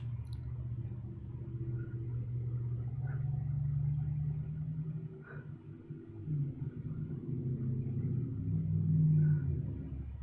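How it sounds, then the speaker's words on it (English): A truck passing by outdoors, a steady low engine rumble that swells and peaks near the end without any talk over it. "Damn truck going by."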